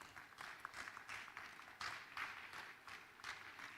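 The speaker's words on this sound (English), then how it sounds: "a round of applause for him" A small summit audience gives scattered, faint applause to welcome an academy founder, individual claps loosely clustered in uneven bursts.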